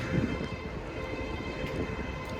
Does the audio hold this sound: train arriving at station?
yes